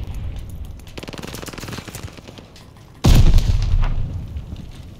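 Gunfire around the hardpoint in Call of Duty: Vanguard crackles as steady automatic bursts, then a loud, close volley hits suddenly and rings on amid continuing shots.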